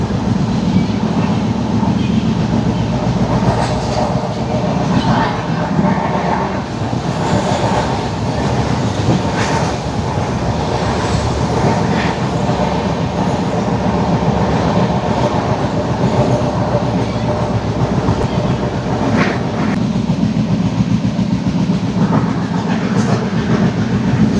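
Inside a moving passenger train from Kollam to Coimbatore, near a side lower window seat, a loud, constant rumble of wheels and carriage runs throughout with faint clatter.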